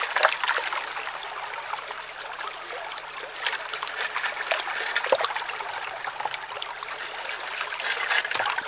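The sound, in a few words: rocks and water flowing down a gold sluice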